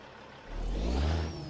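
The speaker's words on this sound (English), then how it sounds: "Listen to that engine." A truck engine in American Truck Simulator, an Autocar AT64, revs up from a steady idle, the low rumble swelling and climbing in pitch before easing slightly, with a thin whine above it.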